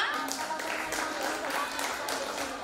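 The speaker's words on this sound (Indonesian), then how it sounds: "Jadi beri tepuk tangan untuk kita semua." An audience claps at a school choir competition held for Hari Santri 2025, a continuous crowd of hands clapping at middling loudness, with a voice speaking over it.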